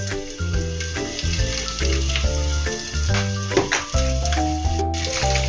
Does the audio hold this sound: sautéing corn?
yes